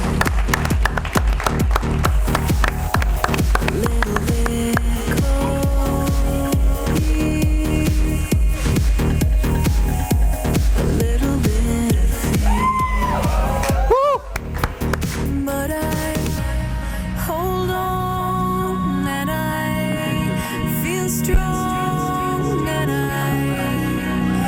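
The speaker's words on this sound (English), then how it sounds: "Come on, guys, round of applause" Dense, continuous applause and cheering from an audience at a humorous speech contest final fill the room loudly, with a brief dip midway before the sustained clapping resumes.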